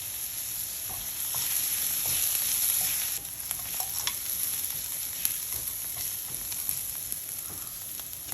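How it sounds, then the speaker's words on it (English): Onions with a pinch of salt cooking in oil in a pan, a steady close crackling sizzle with occasional stirring, louder for the first few seconds, then settling. "we're gonna cook the onions thoroughly here first"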